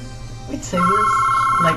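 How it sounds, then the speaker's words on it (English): A mobile phone rings indoors with a steady electronic ringtone lasting about a second, right after a brief stretch of talking. "Sorry about that. That's my phone."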